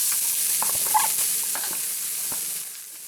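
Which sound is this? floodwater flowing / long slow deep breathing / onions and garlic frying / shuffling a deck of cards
onions and garlic frying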